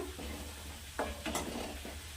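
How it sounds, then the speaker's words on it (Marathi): Onion with turmeric and chili is sautéed in a pan: a soft, steady sizzle with a few scraping stirs from a spatula, quiet and close, and no voices. "आता याला पण असं छान परतून घ्यायचा"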